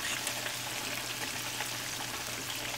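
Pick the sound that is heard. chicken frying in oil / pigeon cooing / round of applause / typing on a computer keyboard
chicken frying in oil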